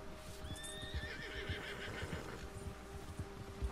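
Horses whinny loudly in the Red Dead Redemption 2 video game, a rising high neigh over steady hoof clip-clops and low ambient game noise, no talk.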